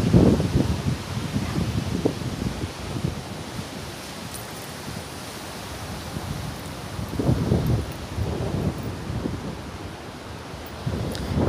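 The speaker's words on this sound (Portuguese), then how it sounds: "É que tá ventando, agora não sei de onde tá vindo o vento." Gusty wind buffets the microphone in rising and falling surges, loud rumbling swells near the start, middle and end with steadier blowing between.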